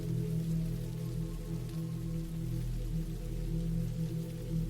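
Steady rain falling on a surface, a constant dense hiss with a low rumbling undertone, continuous and even throughout.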